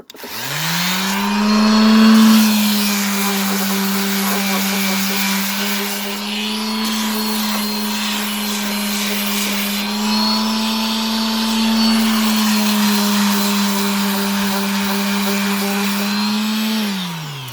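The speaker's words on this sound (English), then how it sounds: "We're going to start off the video by doing the initial rust removal." A power tool strips rust from a metal rail piece, winding up into a loud, steady high-pitched whine that holds for about fifteen seconds with slight wavering as it works the surface, then spins down.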